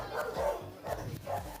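Several large dogs bark in short, loud bursts at a compound, with a few spaced yelps over about two seconds and no talk.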